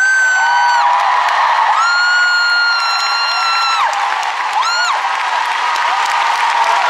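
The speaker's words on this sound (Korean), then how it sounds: "힘찬 박수 부탁드립니다." Applause and cheering from an ice skating show crowd, loud continuous clapping with rising whoops and high shouts layered on top for several seconds.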